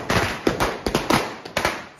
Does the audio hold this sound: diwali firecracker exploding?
yes